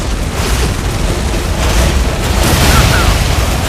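Artillery shells boom and burst in Tom Clancy's EndWar, a loud, continuous barrage of rumbling low explosions with no clear gaps between them.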